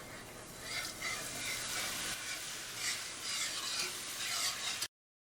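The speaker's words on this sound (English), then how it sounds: "Then you want to sprinkle in your flour and then whisk that in." A whisk works flour into melted butter in a pan to make a roux, giving a steady close-up scraping and swishing with a faint sizzle underneath that runs for about five seconds without a pause, no voices.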